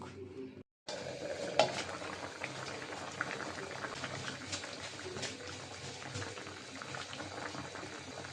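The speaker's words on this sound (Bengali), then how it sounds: "এখন আমি ঢাকনা দিয়ে দিলাম সিদ্ধ হোক" Shing fish curry with potato and beans boils in a covered pot, a steady bubbling simmer with faint lid and utensil clinks, following a brief silence at the start.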